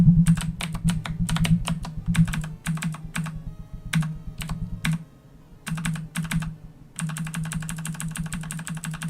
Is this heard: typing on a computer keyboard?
yes